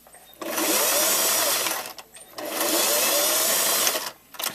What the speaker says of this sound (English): So I want to sew this at a 1/2 inch seam allowance.